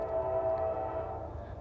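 A CSX freight train rounds a super-elevated curve, a steady low rumble with a sustained metallic tonal squeal riding over it, close and constant throughout.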